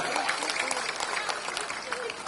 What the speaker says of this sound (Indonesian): Ketua TPD Kabupaten Brebes, tepuk tangan buat Pak Zubat.